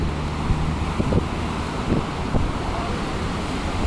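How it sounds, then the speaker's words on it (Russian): Wind gusts across the microphone on a seaside walk in Alanya, Turkey, with a steady broadband rush and soft surf in the background, occasional low thumps, and no clear talk. "Еще солнце не ушло, а такой свеженький ветерочек дует."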